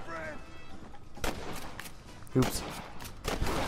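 Gunfire in the Western video game Red Dead Redemption, with several sharp shots at scattered moments over game background sound, and a player's voice speaking briefly.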